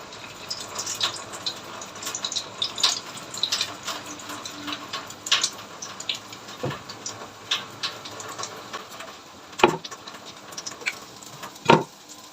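Dishes rinsed under a running kitchen tap during cooking: faint, uneven splashing and trickling water with scattered clinks and knocks of crockery, no talking.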